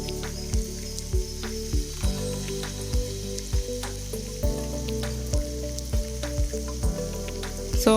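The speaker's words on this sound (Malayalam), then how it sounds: "പനീർ പോലെ തന്നെ നമുക്ക് സോയ ഫ്രൈ ചെയ്തെടുക്കാം" Soya chunks fry in oil in a pan, giving a steady loud sizzle broken by regular scraping strokes of stirring roughly every half second.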